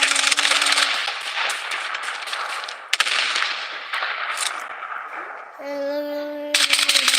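Gunfire in the Blood Strike battle royale video game: rapid bursts of automatic shots crackle sharply and near, with scattered single cracks and a brief lull, under game sounds and voice callouts.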